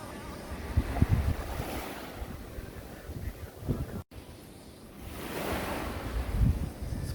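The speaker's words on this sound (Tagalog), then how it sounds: "Hangin lang yung maingay." Wind gusting over the microphone with sea waves surging and washing onto a Philippine beach, steady broadband roar that swells and fades, with no talking.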